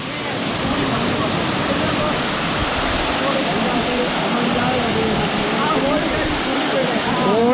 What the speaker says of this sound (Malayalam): ആ വെള്ളം ഇങ്ങനെ പാറലടിക്കുന്നതിൻ്റെ കിടിലൻ ഫീല്